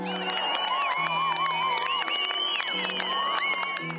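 Large crowd gathered in central Bucharest at night celebrating the city's mayor winning Romania's presidential election, a dense continuous roar of cheering and whoops with whistles and shouting voices rising over it.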